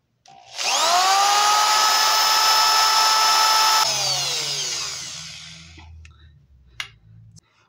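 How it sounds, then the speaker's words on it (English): Power drill drilling through metal conduit for a heavy-duty balloon stand frame: one loud sustained whine that winds down with falling pitch, then quiet low rumbling and a small click. "continue drilling your conduit"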